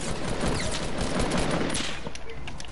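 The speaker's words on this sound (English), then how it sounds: "I'm shooting." Video game gunfire crackles in rapid, dense bursts, a continuous fusillade of sharp shots layered over a busy background through the whole stretch.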